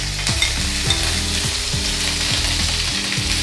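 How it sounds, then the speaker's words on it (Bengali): Onion and ginger paste fries in a pan with a steady, loud sizzle, overlaid by repeated scraping stirs of a utensil against the pan at a regular rhythm, close up with no talking. "আদা পেঁয়াজটা আমি একটু ভালো করে ভেজে নেব।"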